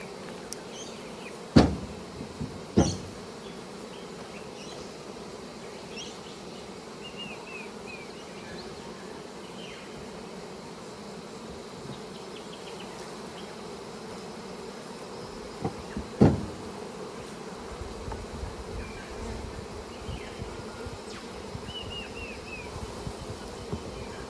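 Honey bees buzzing around hives during beekeeping, a steady faint hum throughout, with a few sharp knocks and clicks of hive equipment and no talk.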